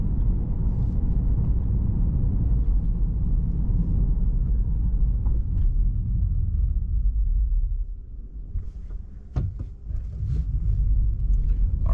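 Quicksilver Tesla Model 3 Performance accelerating hard on small side roads, a steady low rumble of motor and road noise in the cabin that dips briefly near the end before building again.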